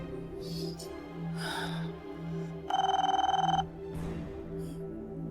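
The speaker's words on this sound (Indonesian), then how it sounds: "coba kamu telepon Isyan." A telephone rings with a short burst of trilling bell tones in one ring, clear and fairly loud indoors, while a phone call is placed; a low hum and brief breathy sounds surround it.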